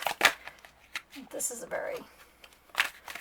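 Tarot cards riffled and shuffled by hand, a large oversized deck, giving quick papery flutters and soft slaps in short bursts with pauses between, close by, with a person talking quietly in between.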